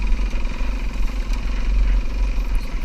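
A motorcycle engine drones steadily up close as it climbs a snowy slope through bushes, a continuous low throbbing hum with slight rises and falls in throttle.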